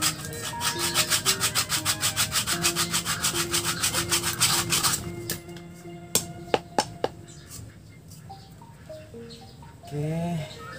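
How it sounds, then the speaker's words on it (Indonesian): Sandpaper rubbed back and forth over a coconut shell being shaped for a traditional stringed instrument, fast regular rasping strokes for about five seconds, then a few sharp taps, scrapes and handling noises. "kita amplas dulu batok ini guys, biar buletannya tuh rata,"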